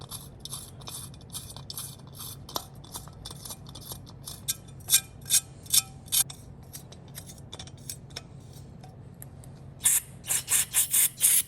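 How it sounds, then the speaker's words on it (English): Tap or thread chaser working threads on the ignition cover of a 20-year-old Yamaha YFZ450, giving clusters of sharp metallic clicks and ratcheting scrapes close by with quiet pauses between bursts. "Probably should chase all these threads first."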